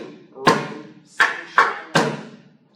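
Four hollow thumps struck on the top of a drum, in a slow uneven pattern, a single hit followed by a close group of three, each with a short decay. The hits come in a music-class rain rhythm.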